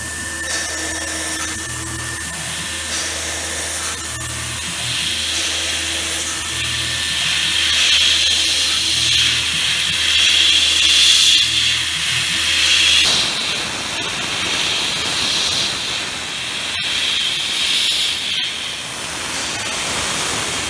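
A Tormach CNC mill drills at about 4,500 RPM with a 50 inches-per-minute feed, giving a steady high hiss and whine with periodic low pulses that then shifts to a broader rushing noise; no one speaks.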